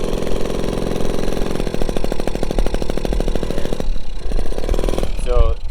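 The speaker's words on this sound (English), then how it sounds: "Kickstarting." A Honda Motocompo, an 80s folding motorcycle, sputters to life after a kickstart, its small engine popping in a rapid, uneven rhythm, close and loud, before dropping away at the end.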